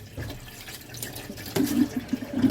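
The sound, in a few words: washing seaweed under running water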